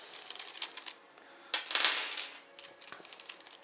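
Several dice clatter and rattle as they drop into a jar, with a burst of tumbling clicks in the middle and scattered lighter taps before and after.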